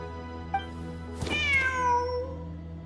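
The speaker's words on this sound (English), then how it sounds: "Wait, there it is! The cat!" A cat in the Genshin Impact video game lets out two meows, the first a short faint chirp and the second a longer drawn-out cry, over a low steady game-music bed.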